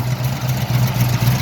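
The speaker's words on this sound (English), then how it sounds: "can listen to that wonderful solid engine" A 1971 Ford XY Falcon GTHO Phase 3 sits idling with its V8 engine running. A loud, steady, low rumble with a slight rhythmic lope throughout, heard close up and alone.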